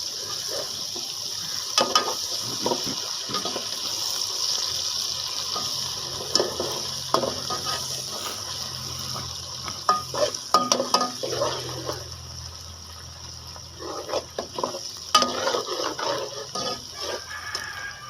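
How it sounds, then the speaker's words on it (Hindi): Ginger-garlic paste and green chili paste fry and get stirred in a pan for eggplant biryani, a steady close sizzle broken by repeated scraping strokes of a spoon. "अब इसमें अदरक लहसुन का पीस डालेंगे। सब्ज़ मिर्च का पेस्ट डाल देंगे।"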